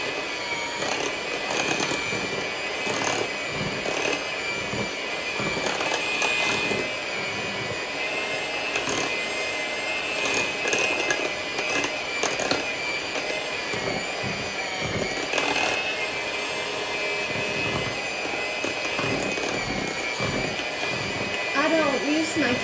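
Electric hand mixer beating fruit cocktail cake batter of sugar, flour, eggs, vanilla, baking soda and salt, a steady close motor whir running throughout with someone talking over it.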